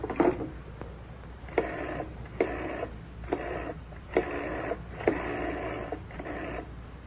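A telephone is being used, heard as a faint series of about six evenly spaced buzzing pulses over a low hum, in an old British drama scene. No voices.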